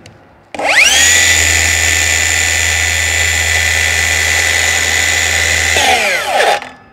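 A Bosch GKS 18V-68 GC BITURBO cordless circular saw spins up sharply, holds a loud, steady high-pitched whine for about five seconds, then winds down, with no cutting load audible.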